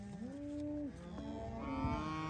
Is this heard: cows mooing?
yes